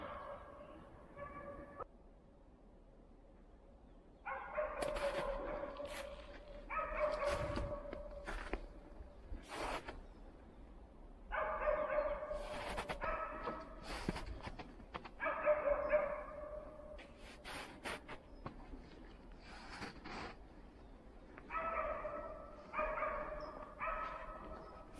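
A pair of young West Siberian huskies bark at a moose in the spring taiga, repeated bursts of sharp barking at mid-distance broken by short pauses, with rustling movement in between.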